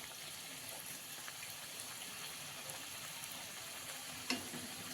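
Puris deep-frying in hot oil, a steady close sizzle and bubbling that runs unbroken throughout with a small pop near the end, no voices.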